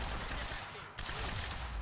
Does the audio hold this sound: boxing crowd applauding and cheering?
no